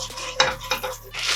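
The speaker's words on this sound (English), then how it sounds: "Let's continue stirring this." Vermicelli being stirred in ghee in a pan, with cardamom powder added: a few close, distinct scraping strokes of a utensil against the pan over a faint background sizzle.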